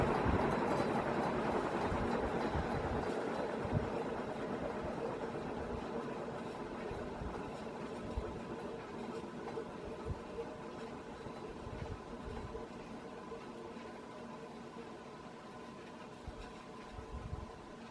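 A 1979 Banvil Envirofan Heavy Duty Gold Line industrial ceiling fan spinning down: a steady droning whir that slowly fades and loses energy over many seconds, with faint rattles and bumps underneath.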